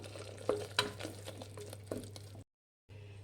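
Mint and turmeric stirred into mutton boti in a pan, a soft sizzle with a few spoon clinks and scrapes, broken by a brief dropout near the end.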